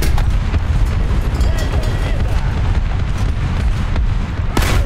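Tank cannon blasts in the War Thunder video game, Ground Realistic battles with a T 26-4, boom loudly over heavy engine rumble, with sharp shots near the start and end. Someone talks excitedly throughout.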